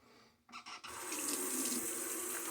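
A tap runs steadily into a sink as shaving foam is rinsed from hands, a short sputter giving way to a continuous close hiss of flowing water with no talking.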